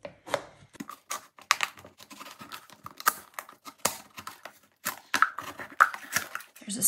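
Snips cutting through thin metal sheet for a craft project, a run of sharp irregular clicks and crinkly snaps close by, with no talking.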